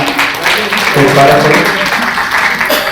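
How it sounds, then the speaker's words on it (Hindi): A crowd at a Hindi poetry gathering in Raipur bursts into strong, dense applause that carries steadily for a few seconds, close and loud, with no speech over it. "महात्मा गांधी के लिए एक बार पुनः जोरदार तालियां।"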